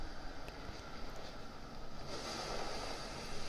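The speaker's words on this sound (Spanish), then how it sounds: "Vaya, qué cantidad de viento." A strong gust of wind blows through a mobile video game as a continuous rushing, whooshing wash that grows stronger toward the end of the short stretch.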